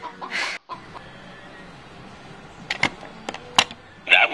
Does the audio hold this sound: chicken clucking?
yes